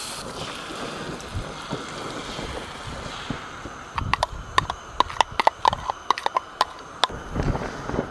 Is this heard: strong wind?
yes